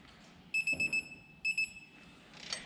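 A farm planter's electronic alarm sounds in two bursts of rapid, high, piercing beeps, three or four pulses each, fairly clear over low background rumble with a brief clatter between them.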